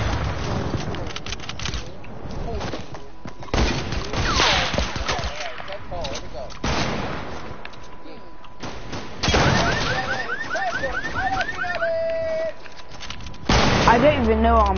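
Rapid bursts of gunfire from a shooter video game crackle in clustered volleys with sharp reports, mixed with game effects and occasional beeping tones, with a voice talking at points.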